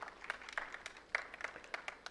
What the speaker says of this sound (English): Give it claps to this gentleman like that.